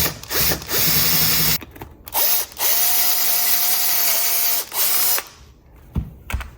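A power drill bores a hole in several bursts, each spinning up with a whining pitch that climbs and holds, separated by short pauses, loud and close with no talking.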